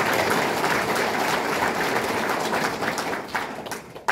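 An audience at a formal general assembly applauds in a dense, steady wash of clapping that fades slightly toward the end, with no voices over it.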